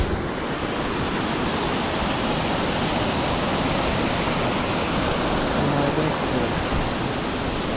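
Waterfall beside Kondeshwar temple near Pune, a steady broad rush of falling water filling the scene with constant hiss and roar, no voices over it.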